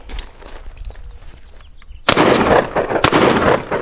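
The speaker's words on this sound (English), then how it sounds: "Anxious to put a couple rounds through it." Citadel Boss 20 gauge nickel-plated double-barrel coach shotgun fired outdoors, one sharp loud blast followed about a second later by a second shot, after quiet handling sounds.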